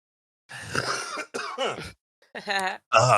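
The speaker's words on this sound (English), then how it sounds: "Clearing my throat. Let me clear my throat." Someone clears their throat several times in rough, raspy bursts with short pauses between, close to the microphone.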